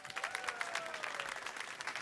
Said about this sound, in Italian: Fate un gigantesco applauso, fate un gran casino per Daniele Racco.